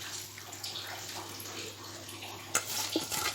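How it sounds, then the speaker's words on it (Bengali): Liquid broth poured into a pan of tengra fish curry with potatoes, a soft continuous splashing and trickle close by, with a brief louder splash near the end. "এবার ঝোল দিয়ে দেব।"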